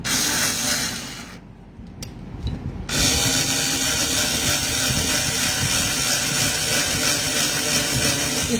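Cordless screwdriver drilling a small hole into plastic: a steady grinding whir that cuts out for about a second and a half, then resumes and runs continuously to the end, close and loud, with no talking.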